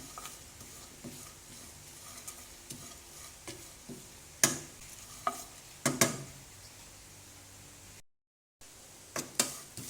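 Dry coconut shreds rustle and hiss as they are toasted golden in a hot pan for miang kham, a utensil stirring them with occasional sharp scrapes and taps against the metal.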